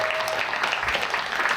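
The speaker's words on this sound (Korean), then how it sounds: "우리 큰 박수 한번 부탁드리겠습니다." Seminar audience applauding for a course's first graduating class, a brief, moderately loud burst of dense clapping throughout, slightly distant in a room.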